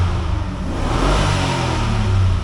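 Engine of a 2004 Chevy Tahoe with the 5.3L V8, running loud and steady up close with a sustained rev, no voices.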